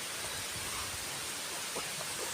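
Steady rain falling at the Mankad Dian waterfall in Odisha, a dense continuous hiss of water filling the whole clip with no voices.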